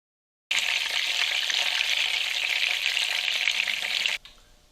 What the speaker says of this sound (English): It has a nice sizzle.